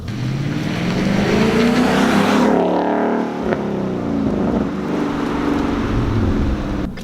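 A 2016 Ford Mustang GT Performance Pack's 5.0-liter V8 revs up loudly on the road, its pitch climbing, dips briefly as gears change, then pulls hard again with a roaring exhaust.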